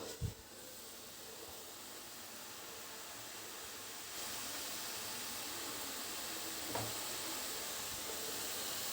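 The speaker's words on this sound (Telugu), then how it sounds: "ఆయిల్ చక్కగా వేడెక్కింది ఇప్పుడు మనం చేసుకున్న వాటిని ఇలాగ ఆయిల్ వేసేద్దాం" Batter made from urad dal (split black gram) is dropped into hot oil to fry as an evening snack. A steady, faint hiss and sizzle continues throughout, with a couple of brief soft knocks and no speech.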